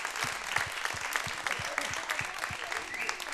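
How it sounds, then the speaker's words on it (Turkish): A television studio audience claps for mothers, a lively steady burst of applause with low voices and murmurs mixed underneath. "Tüm annelere bir alkış gelsin mi?"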